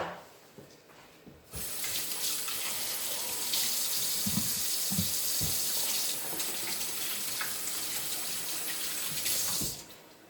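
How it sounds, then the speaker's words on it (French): Water runs steadily from a kitchen tap while hands are washed during preparation of homemade tabbouleh, a continuous gushing flow starting abruptly after a moment of quiet and cutting off near the end, with a few soft knocks underneath. "On va éloigner un peu ça le temps que je me lave les mains."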